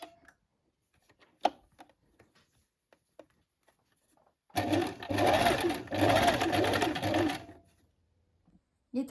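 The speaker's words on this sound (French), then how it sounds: "Donc vous faites une couture de maintien à" Sewing machine stitching a stay seam 5 mm from the edge of a blouse, running in a steady close whir for about three seconds after some quiet clicks and handling of the fabric.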